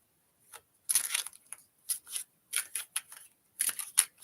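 Tarot cards being shuffled in a series of crisp, riffling bursts with short pauses between, close and clear with no talking.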